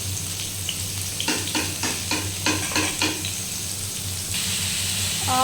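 Food frying in a pan, dried pieces being fried, with a steady close sizzle and a run of stirring scrapes in the middle, over a constant low hum.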